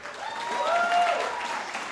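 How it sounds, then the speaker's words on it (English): A crowd at a developer event claps for the technical team in a brief burst that swells and fades within about two seconds, with a whistle or cheer rising above it. "let's give a round of applause to the technical team"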